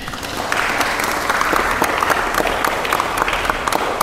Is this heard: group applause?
yes